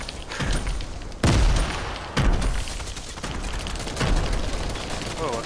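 Grenade explosions in a video game: heavy low booms burst at roughly one-second intervals over a dense, noisy battle bed with scattered gunfire, and voices talk faintly beneath.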